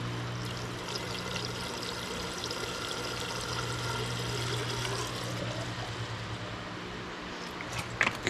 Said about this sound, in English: We're going to top off her washer fluid here with a jug